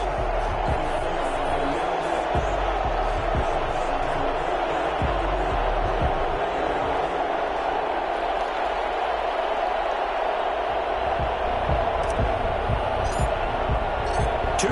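An NFL stadium crowd roars in a steady, dense wash before a Week 14 Tennessee Titans vs Portland Snowhawks game, with scattered thumps and a voice talking over the constant din.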